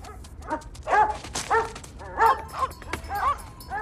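Street dogs barking, yelping and whimpering at rivals in a scuffle, several sharp, close bursts spaced unevenly over a few seconds, with no talking.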